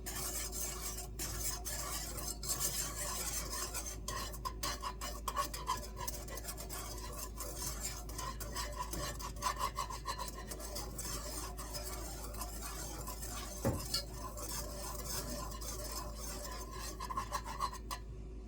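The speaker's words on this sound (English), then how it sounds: "I'm still stirring constantly" A whisk stirs apple pie filling in a pot as it nears a boil, giving a steady, continuous scraping and rasping that runs the whole time with small clinks against the pot and no talking.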